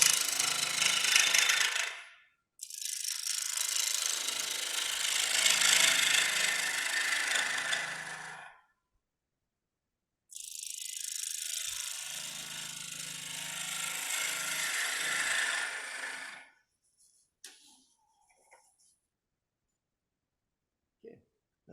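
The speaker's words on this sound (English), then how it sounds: "Slowly going through my bow gouges here because this is really kind of petrified" A bow gouge cuts hard petrified wood on a lathe. Two long, loud, rough scraping cuts run several seconds each and are separated by quiet pauses, with faint ticks after them.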